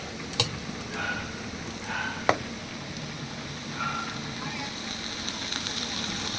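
Ginger, cumin and chili paste sizzling in a frying pan while soybean curry cooks, a steady low fry hiss with occasional clinks of a spoon against the pan and someone talking over it.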